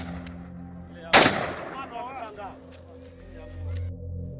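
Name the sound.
gunshots, a soldier firing repeatedly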